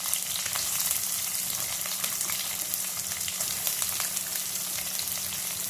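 Chopped onions hiss in hot oil, a loud, even sizzle with fine crackling throughout, laid over a faint low hum and free of speech.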